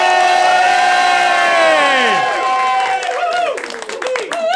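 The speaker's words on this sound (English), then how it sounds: "Start clapping your hands, whoop and cheer like crazy" A comedy-show audience whoops and cheers loudly, with long rising and falling shouts, then breaks into dense, rapid clapping near the end.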